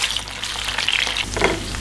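Ingredients frying in oil to make a savory broth oil: a loud, dense sizzle with bubbling crackle that swells briefly near the end, close up and with no voices.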